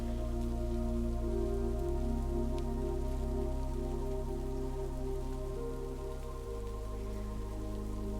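Steady rain falls through woodland, a continuous, even wash of drops on leaves and ground with a low rumbling bed beneath, close and enveloping throughout.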